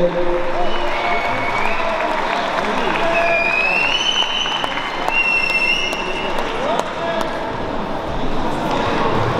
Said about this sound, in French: On peut l'applaudir ce soir à Bilal.